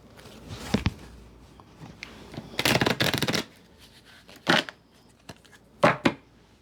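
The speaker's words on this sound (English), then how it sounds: "So I'll shuffle these like 3 times too." Oracle cards are shuffled by hand in several quick, crisp riffling bursts separated by short pauses, close up with no talking.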